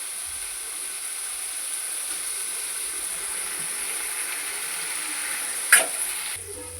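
Broad beans and chirri leafy greens fry in a pan with a constant, moderately loud sizzle, broken by a single clattering stir of a utensil near the end.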